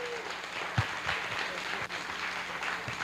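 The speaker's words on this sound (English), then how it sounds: "give a big round of applause for Mayor Walsh" Audience applause at the 2019 City of Boston Scholarship Fund award ceremony, a steady, moderately distant wash of clapping that holds for about three seconds with a few louder thumps mixed in.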